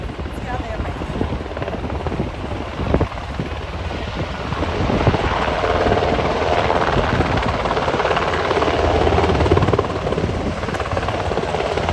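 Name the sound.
helicopter hovering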